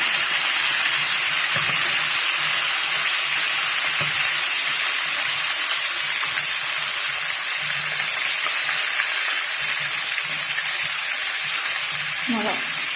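Fish frying in oil in a pan for chakchouka, a steady loud broadband sizzle running without pause, with faint clinks and a few low bumps underneath.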